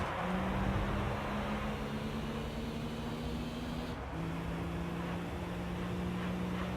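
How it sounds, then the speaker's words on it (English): A rotary-engined race car in Gran Turismo 3 pulls alongside, its engine a moderately quiet, steady buzzing drone over a hissy background, with a brief pitch dip midway and no talk. "we're getting pulled on by a rotary engine"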